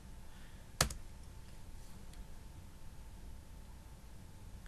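Typing on a computer keyboard while building a WordPress website, heard as one sharp near click followed by faint, sparse key taps over a low hiss.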